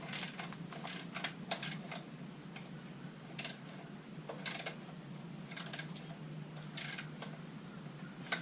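A wrench ratchet clicks in quick, uneven bursts while tightening bolts during an engine install on a yerfdog kart; the clicks are close but faint over steady background hiss, with no talking.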